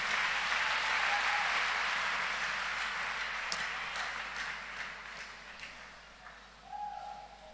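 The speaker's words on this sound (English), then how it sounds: "Somebody clap your hands with Jesus." A church congregation claps their hands during a revival service, a broad wash of applause that starts strong and slowly fades, with a faint tonal sound and a brief sharp tap near the end.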